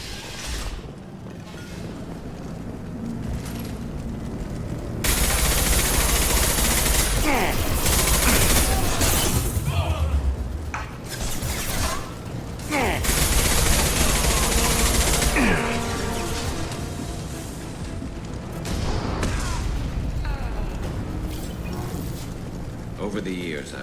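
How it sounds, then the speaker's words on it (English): Mass Effect 2 battle with Blue Suns mercenaries and Vorcha shooting, with repeated loud bursts of gunfire and mechanical clatter running through most of the clip, partly under spoken dialogue. "The Blue Suns and Vorcha shooting anything that moves."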